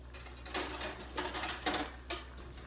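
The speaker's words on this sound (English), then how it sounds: "I'm just going to add about a tablespoon and a half of cornstarch. And then I'm going to give it a little whisk." A whisk clinks against a pot while cornstarch is stirred into stock for meatball stroganoff, with four sharp metallic scrapes in a loose rhythm, close up and without talk.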